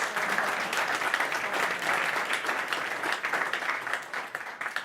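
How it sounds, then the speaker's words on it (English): Warm audience applause for panelists called to the front at a last-mile delivery meetup, a dense, continuous clapping crowd sustained for several seconds with no voices. "Please give them also a warm applause."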